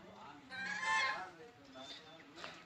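Loud nasal honking calls from ducks on water in a village, several in a quick cluster, with a few fainter calls following and low background murmur.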